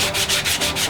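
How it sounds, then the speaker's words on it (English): Wood filler is sanded in quick, steady back-and-forth rubbing strokes, a close, rhythmic hiss with no voices. "We'll do a quick sanding of the wood filler to cover the dowel holes."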